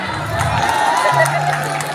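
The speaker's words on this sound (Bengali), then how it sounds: "নিজেদের জন্য হাততালি দেন" A crowd at a band music concert cheers and claps in a loud, steady burst of noise that fills the short moment.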